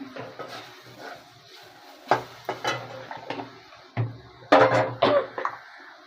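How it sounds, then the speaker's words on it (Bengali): A spoon stirring turmeric into spices in a pot over lowered heat, giving scattered scrapes and knocks against the metal, a few louder clatters near the end over a faint sizzle, with no talk. "হলুদটা দিয়ে নাড়বো, আঁচটা কমিয়ে দিলাম"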